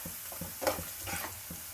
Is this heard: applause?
no